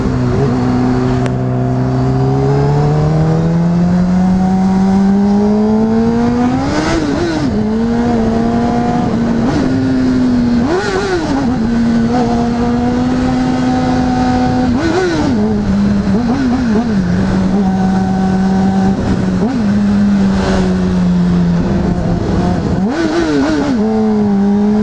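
A Honda CBR600RR motorcycle engine drones steadily and loudly, with the pitch rising in repeated revs every few seconds as it accelerates through traffic.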